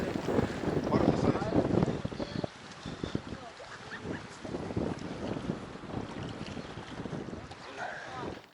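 Strong wind gusts over the sea buffet the microphone outdoors on open water, roaring in uneven surges, with faint voices now and then underneath.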